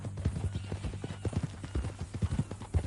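A horse in Red Dead Redemption 2 walks along with steady, close clip-clopping hoofbeats. The sound is moderately loud, with no talking over it.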